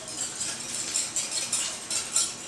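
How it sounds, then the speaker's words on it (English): An egg and cheese mixture is whisked in a bowl, giving a quick, continuous light clinking and swishing at close range. "And then I'm just gonna whisk this together."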